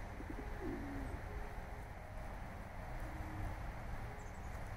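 A flock of pigeons settled on a food patch coos faintly, a couple of short low calls rising briefly over a steady outdoor noise bed.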